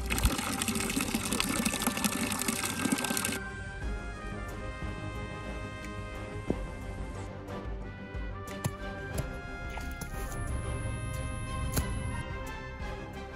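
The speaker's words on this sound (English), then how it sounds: "we got the hole filling up with water, and soon we're going to turn it into quicksand" Water pours into a hole dug in the ground, a steady close gushing and trickling that softens partway through and continues alone with no talk.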